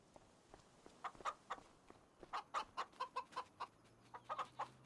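Chickens cluck repeatedly in Farming Simulator 25, a run of short, moderately close clucks in uneven bursts with a low steady hum beneath and no talk.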